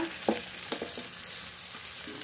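Ground spice pastes of dried chilli, green chilli and garlic sautéing over onions in a pan, a continuous sizzle broken by a few soft scraping stirs.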